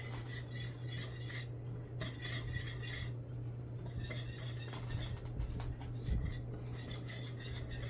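Ingredients for Jamaican rock buns, including room-temperature butter, being mixed in a bowl, giving a steady run of close, light clinks and scrapes over a low constant hum, with no talking.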